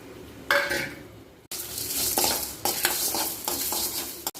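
Spices and lentils dry roasted in a pan, with scraping stirs and light rattles of grains against the metal over a soft, steady sizzle, briefly pausing and then resuming more busily.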